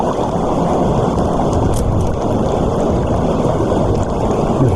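Heavy rain pouring down over a small forest brook trout stream, a dense, loud, unbroken hiss of drops and running water with no talk.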